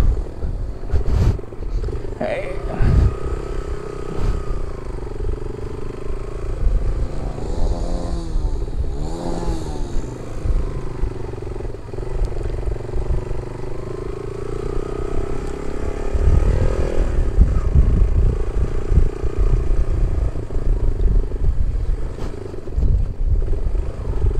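A team of motorcycles rides off-road onto a muddy track on a trip from Karachi toward Bozi Top. Engines drone and rev loudly and continuously, with rising and falling pitch and rougher bursts as the bikes push through the mud.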